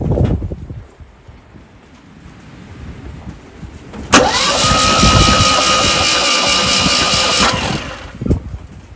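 A rusty Polish Fiat 126 being cranked over with its spark plugs removed, giving a loud, steady, rapid whirring churn that lasts about three seconds, with clunks and shuffling before and after.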